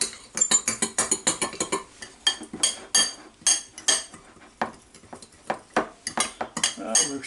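A spoon scrapes and clanks rhythmically against a bowl while honey garlic wing mixture is stirred, loud and close, in quick repeated strokes with brief pauses.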